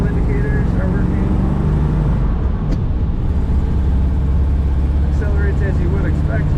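A 1955 Ford Thunderbird's engine pulls steadily under acceleration, a loud sustained drone with road and cabin rumble heard from inside the car.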